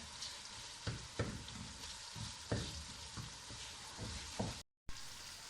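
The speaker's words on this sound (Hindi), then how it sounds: "टमाटर को इस तरह मैश कर लेते हैं, जल्दी गल जाए।" Tomatoes are mashed in a cooking pan over a steady frying sizzle, with a series of soft, irregular thuds and scrapes from the mashing. Near the end the sound briefly cuts out to silence. No voices.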